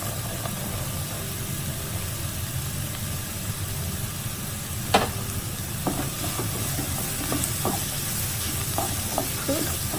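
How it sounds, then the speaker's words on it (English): Chopped carrot is stir-fried in a pan for fried rice, with a continuous steady sizzle and occasional scrapes and taps of the utensil against the pan, one sharper knock near the middle. "Cook for a few minutes until the carrot tender."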